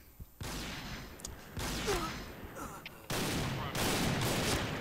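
Gunfire in the online shooter Point Blank during a sniper match: bursts of rapid automatic shots in long rattling runs separated by short gaps, loud and close, with little speech.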